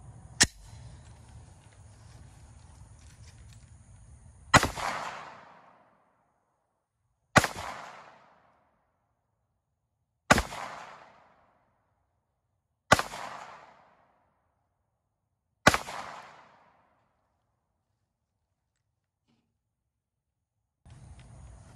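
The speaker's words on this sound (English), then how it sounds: "First shot's going to be from the Glock 17 at 10 foot." Five sharp, loud gunshots from a Glock 17 9mm pistol fired at 10 feet into gel, evenly spaced about three seconds apart, each with a short decaying tail, silence between shots.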